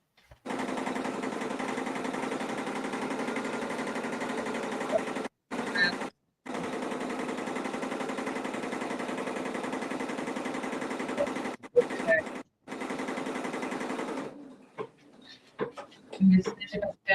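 A sewing machine stitches embroidery down onto a candle craft, running in a close, steady, rapid whirring drone with a few brief pauses, then stopping before some light handling clicks at the end.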